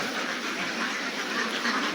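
A large flock of ducks in the sheds of a duck farm keeps up a dense, continuous chorus of quacking, close and fairly loud, with no talking.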